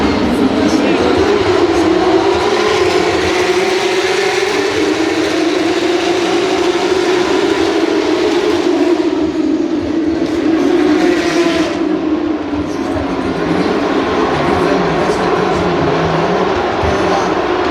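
Porsche Supercup race cars at the 2019 Belgian Grand Prix pull away from a standing start, their engines merging into a dense, continuous roar whose pitch climbs steadily as the field accelerates.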